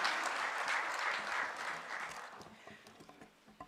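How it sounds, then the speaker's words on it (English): An audience applauds at a forum launching a just energy transition skills desk, a dense wash of clapping that is fairly loud at first and then thins out into scattered individual claps as it fades. "Let's give another round of applause"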